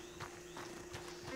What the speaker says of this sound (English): Oh, I heard something. Oh, that's my horse.